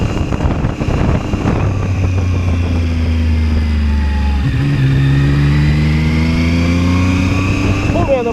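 A Zontes 703F motorcycle engine drones loud and close while riding on a test drive. Its pitch shifts and climbs after a gear change midway as it pulls harder, and the steady exhaust note continues to the end.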